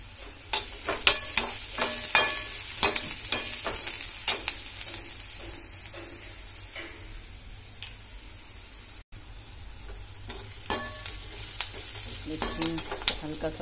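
Maggi noodles sizzle steadily in a pan while a spoon stirs them, giving sharp scraping knocks in uneven bursts over the frying hiss, close and fairly loud, with no speech.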